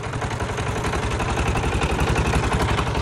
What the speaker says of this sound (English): Yes, the engine has just started.